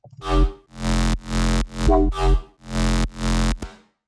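A punchy synth bass shot repeats in short bursts, roughly seven hits with brief gaps between them, loud and close with no voices.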